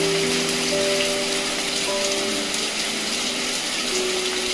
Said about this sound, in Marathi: पाऊस यायला लागला ते घरात पळून आले.